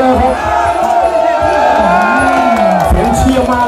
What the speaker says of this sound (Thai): เสียงเชียร์มาเลยครับ